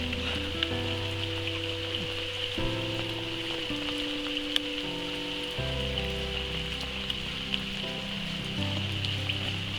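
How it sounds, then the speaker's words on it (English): Heavy rain pours down at a carp fishing lake, a steady hissing patter that holds throughout while music plays underneath. "It's pissing down with rain today."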